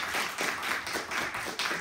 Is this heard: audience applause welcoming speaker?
yes